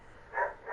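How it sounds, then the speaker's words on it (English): A dog barks faintly in the background indoors during a live stream, two brief muffled barks set well back behind a quiet room. "I'm sorry for my dog in the background."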